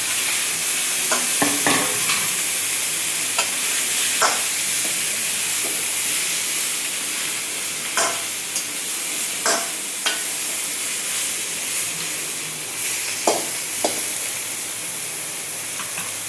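Vegetables stir-frying with ginger and radhuni tempering for a mola carplet fish shukto, a loud continuous hiss of hot oil and steam punctuated by intermittent spatula scrapes and taps; near and unaccompanied by talk.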